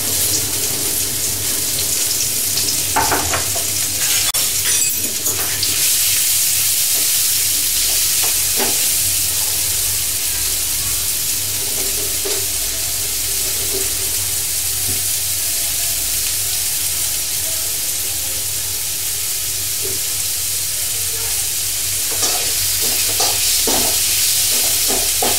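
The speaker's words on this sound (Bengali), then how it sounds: "তেল দিয়ে তার মধ্যে পেঁয়াজগুলা আমরা ভাজবো বেরেস্তার মতো করে" Onions frying in oil in a pan on the stove, a steady loud sizzle running throughout with occasional stirring scrapes and clinks over the hiss, close up with no talking.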